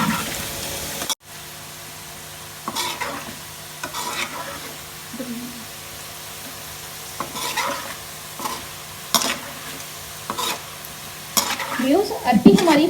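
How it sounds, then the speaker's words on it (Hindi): Pieces of arbi (taro root) frying in a pan with a steady sizzle, broken by repeated scraping and stirring strokes; one brief pause early, then irregular stirring bursts continue up close. "और तब तक हमारी अरबी माशाल्लाह से फ्राई हो रही है"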